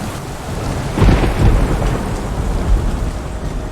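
In the VR game Boiling Steel, steady rain hisses and patters while deep thunder rumbles and rolls through it, with a heavier swell of low booms partway through. No voices are heard.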